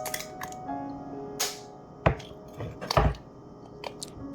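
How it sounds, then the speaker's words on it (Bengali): Two eggs cracked in a home kitchen: a few sharp taps and cracks spaced over a few seconds, close and fairly loud, with no talking. "আবার ডিম ফাটিয়ে নিচ্ছি।"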